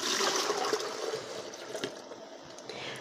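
Homemade Sarawak rice wine (air tapai) is poured into a jug, a soft, continuous liquid trickle and splash that gradually tapers off, fairly faint and close, with no voices.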